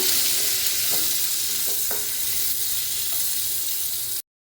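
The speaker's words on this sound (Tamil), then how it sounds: "இப்போ இதை எல்லாத்தையும் சேர்த்து நல்லா ஃப்ரை பண்ணிக்கோங்க" Garlic and ginger fry in a pan for egg gravy with a steady close sizzle, and a few light stirring scrapes break through before the sound cuts off abruptly.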